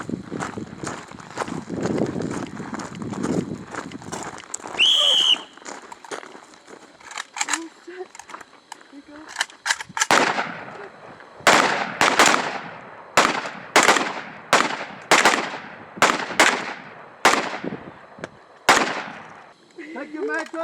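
Sharp rifle gunshots ring out, first scattered, then a quick series of loud single shots at a steady pace, with voices talking in the background.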